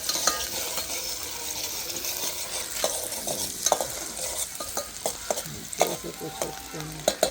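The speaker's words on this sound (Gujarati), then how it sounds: "હવે આપણે નાખી દઈશું એની અંદર આપણે ડુંગળી." Chopped onion sizzles in hot oil with cumin in a pan over a traditional clay chulha while cooking parwal sabji, a steady fry hiss broken by repeated scraping, clattering stirs of the spoon against the pan.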